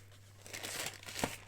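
A small paper bag rustles and crinkles as it is picked up and handled during a scrap-paper notebook craft, with soft close crumpling and one sharper crackle near the end.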